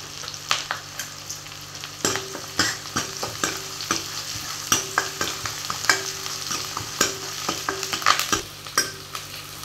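Onions frying and being stirred in a pan for a Tamil bachelor-style chicken curry (kulambu), with a steady soft sizzle under repeated sharp scraping and clinking strokes of a spoon against the pan, close and without speech.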